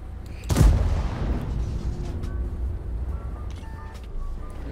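A tank gun fires in a video game: one loud, sharp boom early on, followed by a long, fading rumble.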